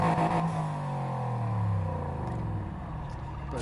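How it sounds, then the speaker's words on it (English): In the racing game Need for Speed Heat, a car engine starts up with a loud rev that drops into a deep, rumbling idle, close and steady. "This has to be my favorite startup sound."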